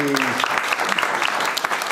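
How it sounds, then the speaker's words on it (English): A crowd claps steadily and densely, applause filling the space with a few brief voices mixed in. "Big round of uh, applause for Cameron Hayes."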